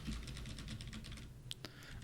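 Quick, steady keystrokes on a computer keyboard while a React web app is live-edited, a dense run of soft clicks throughout, with a couple of sharper isolated taps near the end.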